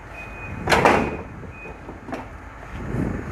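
A bus wheelchair lift lowering: a sharp mechanical clunk followed by a whirring motor, then a couple of smaller knocks and a low rumble as the platform moves down, close and fairly loud.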